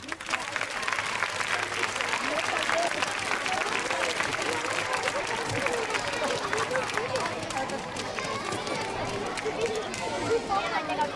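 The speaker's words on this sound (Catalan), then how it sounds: "Un fort aplaudiment!" An audience at a school peace event claps in sustained, dense applause that fills the space at a steady level, with crowd chatter and voices mixed in throughout.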